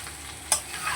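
Ash gourd with spices and potatoes being stirred in a pan, giving a single clear scrape-and-stir stroke over a faint steady background, then a softer second stir near the end.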